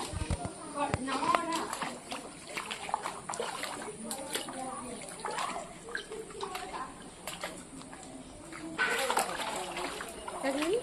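Children splash and slosh in floodwater right in front of a house, with irregular nearby splashes under excited adult talk.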